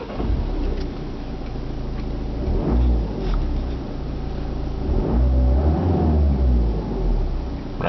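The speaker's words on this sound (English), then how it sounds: "So let's see how the Peugeot sounds." A 2011 Peugeot RCZ engine revs up in several bursts over a steady idle rumble, close and loud, with each blip rising and falling back as a rev limiter holds it near 2,500 RPM.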